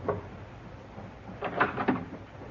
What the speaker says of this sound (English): The captain knocked.